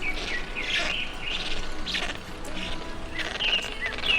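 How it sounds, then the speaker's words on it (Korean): Wild birds chirp and tweet in short, repeated bright calls over a steady outdoor hiss, near and clear, along a mountain road in Korea during a long-distance bicycle ride. "새소리"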